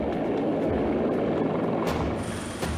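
A military helicopter flies close and loud, its rotor and engine roar filling the scene as a steady, dense drone with faint blade chop.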